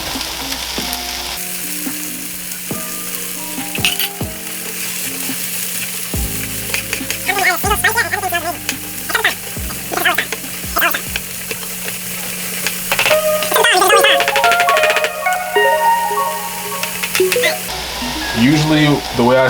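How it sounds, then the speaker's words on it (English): Mushrooms and green onions sizzle and hiss in a pan for a vegan quinoa stir-fry, a steady loud frying bed with utensil clinks and stirring scrapes throughout. "Adding in the mushrooms and the green onions now."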